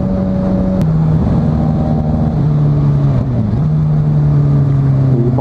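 Loud, close sport motorcycle engine drone with a deep steady exhaust rumble, running without a dB killer but with a catalytic converter, pitch dipping and rising slightly as it idles and revs.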